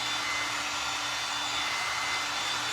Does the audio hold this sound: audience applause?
no